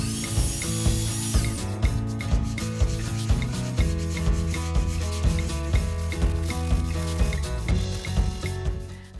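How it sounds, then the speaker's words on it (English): Baseboards being sanded by hand to remove rough edges, steady rhythmic rubbing strokes repeating throughout, loud and close, with a tonal musical bed underneath. "Now, sand down the baseboards to get out any rough edges."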